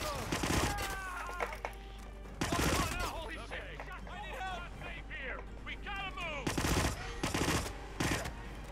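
Gunfire in the stealth game Hitman (2016): several loud broadband bursts of shots, spaced apart across the stretch, with someone talking between and over them.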